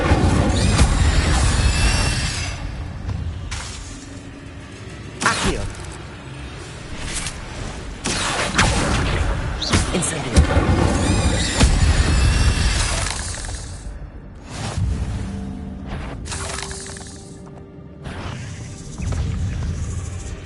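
Fire spells cast in Hogwarts Legacy crackle and burst loudly among a dense run of magical crashes, whooshes and impacts, with sustained, layered game effects throughout.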